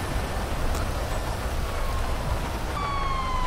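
Steady rain hisses in a GTA V street scene, loud and continuous throughout, with a faint siren-like tone rising near the end.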